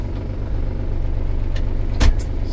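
A Kubota KL345 tractor engine rumbles steadily at close range with the power take-off engaged, and a short sharp burst of hiss or clank cuts in near the end as the hitch rises.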